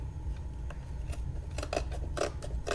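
Scissors snip through paper while cutting around the ears of a paper cutout for a flower-pot craft, with several close crisp cuts in an uneven rhythm over a low steady hum.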